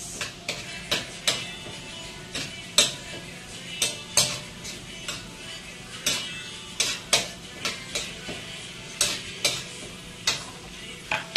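Onions frying in a wok for ginataang papaya give a steady broadband sizzle, broken by frequent sharp spatula taps and scrapes against the metal at an uneven rhythm, close and fairly loud.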